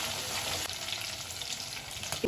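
Chopped garlic sizzling in hot oil in a pan while cooking a snake gourd stir-fry: steady, dense crackling and hissing close by, with a slight stir near the end and no talking.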